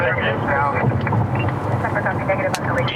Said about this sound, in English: A bunch of news choppers are over it.